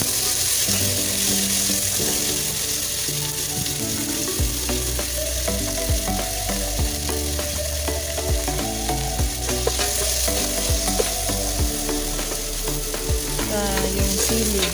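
Vegetables with ginger sautéing for ginataang langka, a steady close sizzle with regular stirring scrapes and knocks of a utensil in the pan throughout, with no voices.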